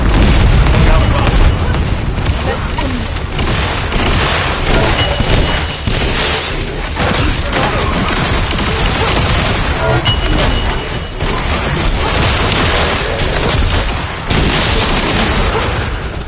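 Air support lays down suppressive fire in The First Descendant, a sustained barrage of loud booming explosions rolling one into another, with scattered game voices mixed in.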